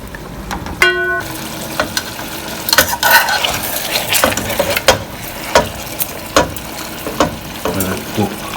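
Vegetables and onion sautéing in a pan, a steady soft sizzle broken by irregular scraping and stirring clatters of a utensil against the pan, loud and close.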